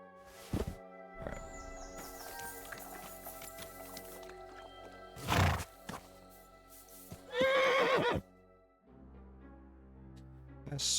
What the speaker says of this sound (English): A fast horse is a great companion that will ease your travels and provide you with a tactical advantage while mounted.